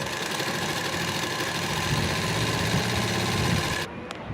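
A sewing machine runs steadily, stitching the side seams of a salwar closed, with a continuous mechanical whir and rattle throughout before it cuts off abruptly near the end.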